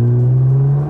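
A Nissan GTR with all-wheel drive and twin turbos holds a loud, steady engine note while drifting, close and sustained, tapering slightly at the end.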